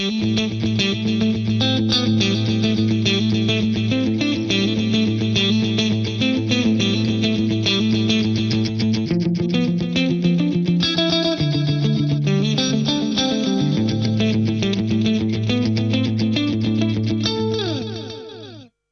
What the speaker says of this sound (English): We've got stereo delays.